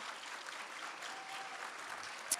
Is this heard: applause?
yes